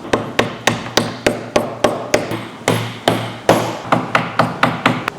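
A mallet or hammer strikes repeatedly while a front utility module is installed, about fifteen sharp, loud blows in a steady, quick rhythm with a short pause midway, close and with no talk.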